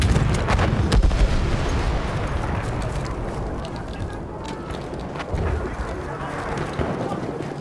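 Heavy battlefield explosions and gunfire from an anti-tank weapon in Battlefield 1 multiplayer Conquest, a dense, continuous rumble of blasts and bursts staying loud throughout, with voices talking over it.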